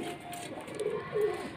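Pigeons cooing close by outdoors, two soft low coos in quick succession over light background noise.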